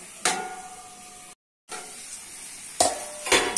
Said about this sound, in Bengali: পেঁয়াজ, মশলাটা ভালো করে কষিয়ে দিতে হবে।